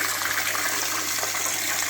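Water pours and splashes steadily from an All Pond Solutions INFIL-1500 internal aquarium filter running at full power, a constant close gushing under a faint low hum.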